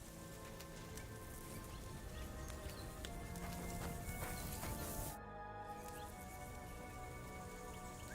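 Steady clip-clop of video game horse hooves on cliffs and rocky paths under a constant rainy, crackling background, with no voices; the level stays even throughout.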